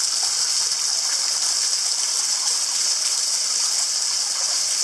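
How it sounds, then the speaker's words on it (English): A waterfall at the Warm Baths in St Lucia pours down steadily into a pool, a loud, continuous broadband rush of falling water close by, with no voices. "And then here is the awesome waterfall."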